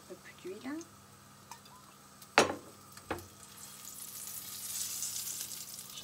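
Chickpea nuggets fry in oil, a soft sizzle that swells gradually toward the end, punctuated by a couple of sharp clicks and knocks; a voice speaks briefly at the start.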